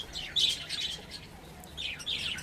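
Budgerigars in a breeding cage give two quick bursts of high, bright chirping a moment apart, close by, with no talking.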